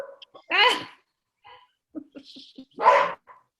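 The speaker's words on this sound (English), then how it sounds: "Is he barking at me now?" A little dog gives two sharp, yappy barks about two seconds apart, close by, with a few soft scrapes and small sounds in between.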